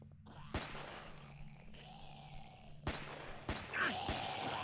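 Several sharp gunshots crack out in the open-world zombie survival game Deadly Flare, spaced irregularly across a few seconds over a low steady background hum, with a short whistling tone near the end.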